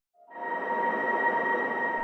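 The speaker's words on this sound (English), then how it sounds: "running pianos through like reverb to get this." A piano run through reverb with only the wet returns audible swells in softly and then sustains as a smooth, shimmering tonal wash, sounding almost like a synth pad or pedal steel.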